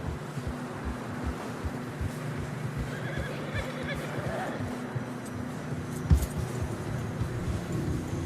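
In the video game Red Dead Redemption 2, a horse whinnies amid steady wind and hooves crunching through fresh snow, while people speak over the scene.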